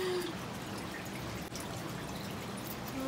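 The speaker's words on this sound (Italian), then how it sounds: "C'è l'acqua lì dentro, in questa grotticina." Water trickles inside a small grotto in a nativity scene display, a continuous close gurgling wash with no talking.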